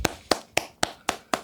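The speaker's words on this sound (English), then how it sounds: "Clap it up for him." Six sharp hand claps land at an even, moderately quick rhythm, fairly faint and close, with no other sound between them.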